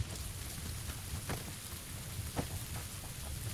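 Continuous rainfall on the Sanhok map of the video game PUBG, a full steady hiss with a rumbling low undertone and a few brief sharper spatters, with nobody speaking over it.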